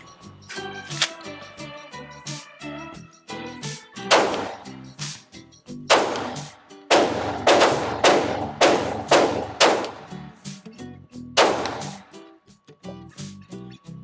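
A Canik pistol fires a string of loud, sharp shots at irregular intervals, some in quick pairs, with brief quiet gaps between them.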